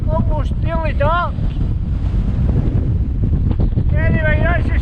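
Strong, cold wind roars steadily across the microphone at the summit of Doune Hill in the Luss Hills as the weather closes in, with a constant low buffeting rush under a voice talking.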